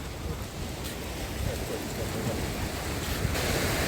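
Sea waves with white foam wash onto a sandy beach in Odesa, a steady close surf roar mixed with wind buffeting the microphone.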